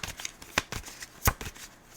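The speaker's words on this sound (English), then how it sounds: "Oh, I don't know why I'm shuffling again." Tarot cards shuffled by hand in a series of crisp, papery riffling bursts, close and fairly loud, with short pauses between them and no talking.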